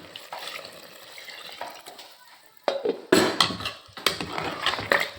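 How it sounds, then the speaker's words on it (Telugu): Water splashes and gurgles into a mixer-grinder jar in a few uneven bursts after a quieter start, close and fairly loud. "ఇప్పుడు ఇదే మిక్సీ జార్లోకి నీళ్ళు తీసుకొని"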